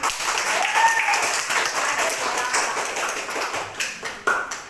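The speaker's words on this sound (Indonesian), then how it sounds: "beri aplaus dulu untuk kelompok" A classroom group gets a round of applause, dense clapping from many hands that rolls on steadily and then thins into a few scattered claps near the end.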